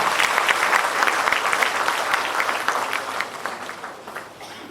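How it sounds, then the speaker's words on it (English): An audience at a college orientation day applauds a speaker coming on stage, with full, dense clapping that gradually thins and fades over several seconds. "Everyone, please give a big round of applause."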